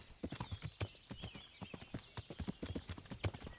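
A horse in the video game Kingdom Come trots along a path, its hooves clip-clopping in a quick, steady rhythm, close and clear with faint ambient sound behind.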